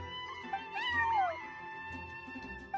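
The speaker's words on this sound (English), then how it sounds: "Oh, Charcoal! So it was you! I'm sorry, that's my neighbor's cat." Neighbor's cat meowing in a video game, giving one clear, drawn-out meow with a falling pitch, close by over soft background music, with no talking.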